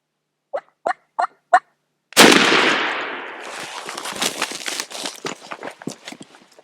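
Four short gobbles from a wild turkey in Alabama woods, then a sudden loud gunshot blast whose echo rolls away into a string of rapid, scattered gobbles and crackles.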